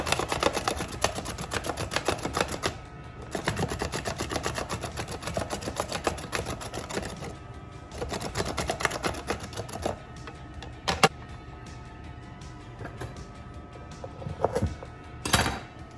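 A sharp plastic knife chopping through soup ingredients on a board, rapid close tapping strokes in bursts with brief pauses and a few louder knocks, no talking.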